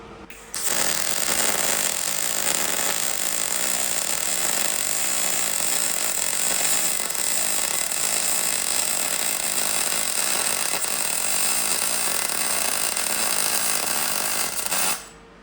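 Continuous loud arc welding crackle and hiss as a second bead is laid over the first on a spare wheel brace repair, steady for about fourteen seconds with no talk.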